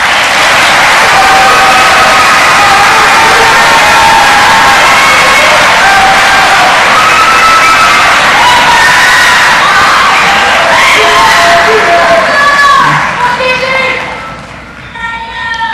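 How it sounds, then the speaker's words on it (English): A concert audience greets the San Joaquin County 2024 high school honors orchestra with loud, sustained applause. Whoops and shouted cheers rise above the clapping before it thins out near the end. "Please give them a round of applause."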